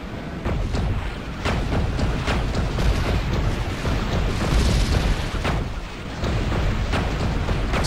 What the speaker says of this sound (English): Proton cannon is now online.